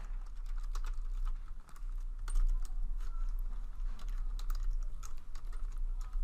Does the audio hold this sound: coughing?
no